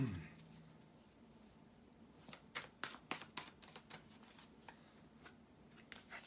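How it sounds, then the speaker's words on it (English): Tarot cards being shuffled, soft and close: a quiet opening followed by a run of sharp card flicks and riffles, several crisp snaps in quick succession and then scattered lighter taps. "bear with me just a couple of seconds guys here to shuffle the tarot cards"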